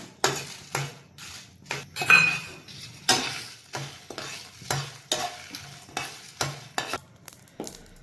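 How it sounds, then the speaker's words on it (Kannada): Black pepper and whole spices dry roasted in a pan with no oil, a spatula scraping and clinking against the metal in a steady rhythm of strokes about once a second, close and without speech. "ಇದನ್ನೆಲ್ಲ ಡ್ರೈ ರೋಸ್ಟ್ ಮಾಡ್ತಿದ್ದೀನಿ"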